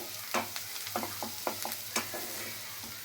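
Garlic browning in a pan of refined oil and butter gives a soft continuous sizzle, with quick close spatula scrapes and stirs coming in bursts across a short stretch, no talking.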